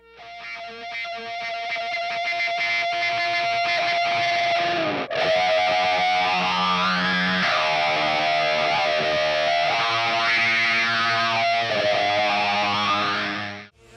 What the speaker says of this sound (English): I used my favorite wah pedal in the studio. It's a Rocktron Black Cat Moan.